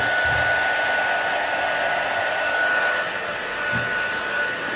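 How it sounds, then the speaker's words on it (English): An embossing heat tool blows hot air in a steady, loud, breathy rush close up, lasting throughout without talk. "I'm going to turn on my heating tool"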